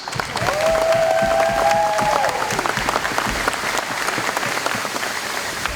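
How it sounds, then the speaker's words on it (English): Crowd applause and light cheering in a high school gym on girls basketball senior night, sustained clapping that fills the room, with a whistle-like tone drifting over it early on. "Let's get a round of applause for our seniors."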